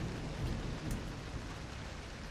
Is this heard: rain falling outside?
yes